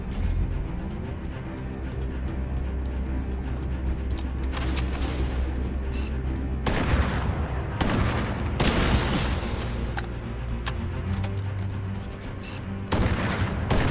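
Gunfire crackles through a Halo match, with scattered sharp bursts and louder booms over a steady game backdrop and a dense cluster of shots in the latter half.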